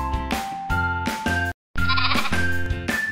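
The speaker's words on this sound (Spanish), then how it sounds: "Oveja." Sheep bleating in a string of loud, close, wavering cries with a short silent gap, set alongside a children's song with music and a voice.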